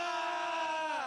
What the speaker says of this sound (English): Give him the Viking yell.